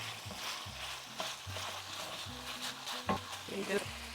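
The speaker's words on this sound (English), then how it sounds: "minced garlic. Get that heated up for about a minute until you can smell it really well." Minced garlic sizzling in a hot pan, a soft, fairly quiet sizzle under a low steady hum, with occasional light clinks and utensil taps.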